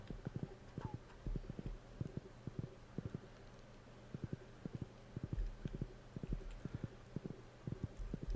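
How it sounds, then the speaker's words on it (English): Horse hooves clip-clop in a steady, brisk rhythm through Stardew Valley, the game's horse trotting home in winter, close and clear over a faint ambient background with no talking. "At least now that I got my horse, it's even faster to get home."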